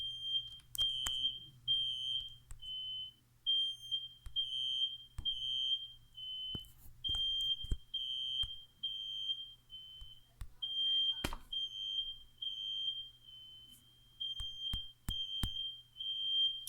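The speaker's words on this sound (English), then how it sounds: "My daughter's cooking and the smoke alarm's going off." A household smoke alarm beeps in a steady, repeating pattern of shrill tones while someone cooks in the home, with a person talking over it and a low hum underneath.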